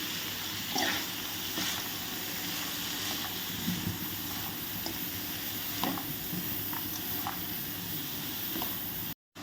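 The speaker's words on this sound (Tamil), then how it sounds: "இப்போ இந்த கீரை எல்லாத்தையுமே நல்லா இந்த எண்ணெயில் படுற மாதிரி நல்லா வதக்கி விட்டுக்குவோம்." Arai keerai greens are sautéed in oil for kootu, heard as a soft, steady sizzle at low level with scattered light stirring scrapes, and no one speaks.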